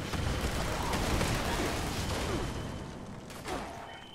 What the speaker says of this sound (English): the explosions there were a bit much